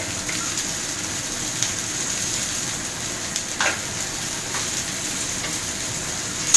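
Spices with chili powder and salt sizzle and fry in a pan, a steady close crackling hiss with a few faint stirring scrapes.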